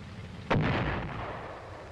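An M551 Sheridan armored reconnaissance assault vehicle fires its gun-launched guided missile, one sudden loud boom followed by a long rumbling roar that slowly fades, heard alone.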